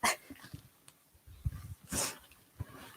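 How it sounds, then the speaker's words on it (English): A dog near a yoga mat in a home setting makes scattered soft snuffles, a sneeze-like burst and light movement sounds, close and intermittent over a quiet room, with no speech. "Get around my dog."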